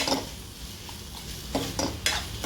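Salt being stirred into chicken kharda masala with thecha and onion in a pan, a few short scraping strokes of a spoon against the metal, close and fairly loud over a faint background.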